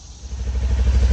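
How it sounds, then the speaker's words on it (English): A Segway Villain SX10 WP side-by-side engine runs steadily nearby, a low, throbbing idle rumble with a faint rhythmic pulse that grows slightly louder over a second or so. "now that I have the engine running"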